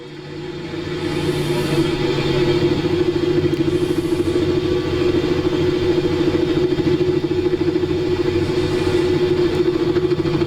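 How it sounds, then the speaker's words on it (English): A helicopter's steady engine drone with a fast rhythmic rotor chop underneath, continuous and loud, its pitch shifting slightly over time as engine and rotor sounds change while flying in cloud. "Changes in the engine sounding, rotor system sounds changing."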